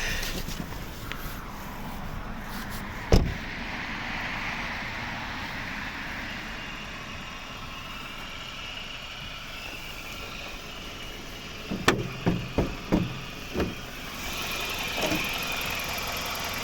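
A 2005 BMW 318 E46 1.8-litre petrol engine with automatic transmission idles steadily at moderate level throughout, with a sharp knock near the start and a brief run of clanks toward the end.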